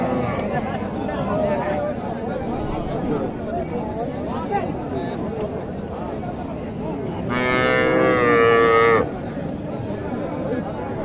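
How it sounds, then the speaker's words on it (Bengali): A crossbred cow lowing at a busy rural cattle market, one long loud moo rising above constant nearby chatter and crowd babble. "এখানে একটি ক্রস গরু আছে"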